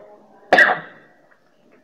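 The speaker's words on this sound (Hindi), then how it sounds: "एक तो खांसी भी जान नहीं छोड़ती" A single sharp cough bursts out close by, trailing off over half a second, followed by a brief faint sound near the end.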